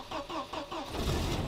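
A car engine cranking in winter cold, several rapid rhythmic starter turns followed by the engine catching into a rough, steady run, close by with no talk.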